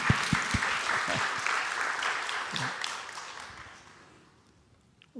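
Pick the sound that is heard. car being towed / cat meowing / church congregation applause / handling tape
church congregation applause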